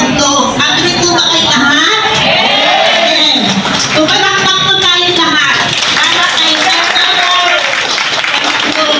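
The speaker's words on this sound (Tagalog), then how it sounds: "Palakpak po tayo lahat." A crowd at a Partido Federal ng Pilipinas political gathering in Manila claps loudly and steadily throughout, with cheering, shouts and overlapping voices mixed into the continuous applause.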